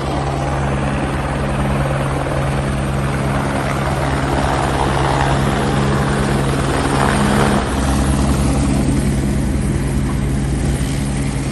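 A helicopter's rotor and turbine drone loud and steady throughout, close by with a constant thudding wash, no talking over it.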